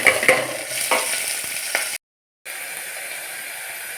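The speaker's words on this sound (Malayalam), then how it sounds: "വെളിച്ചെണ്ണ ചൂടായി വരുമ്പോൾ കടുക്, വെളുത്തുള്ളി ചതച്ചത്, പച്ചമുളക്, കറിവേപ്പില എന്നിവ ചേർക്കുക." Mustard seeds, crushed garlic, green chili and curry leaves fry in hot coconut oil with a loud crackling sizzle and scattered pops. The sound cuts out completely for a moment, then a steadier hiss resumes.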